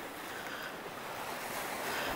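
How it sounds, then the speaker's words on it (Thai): Sea waves wash steadily onto a beach in a continuous broadband rush, with wind noise mixed in and no voices. "นี่ข้างหน้าทะเล"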